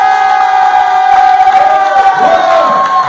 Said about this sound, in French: Acclamons Jésus mort. Alléluia.